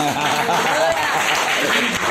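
A church audience applauds, a short burst of clapping heard together with crowd voices and talk throughout.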